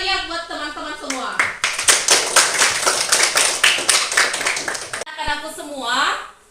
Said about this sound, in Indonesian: aplaus yang meriah buat teman-teman semua